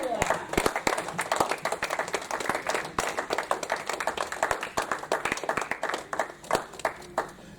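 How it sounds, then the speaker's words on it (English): A church congregation clapping together during a sermon, a steady patter of many hands with sharp individual claps, moderately close in a reverberant room, with a few voices mixed in. "Come on, clap for Peter"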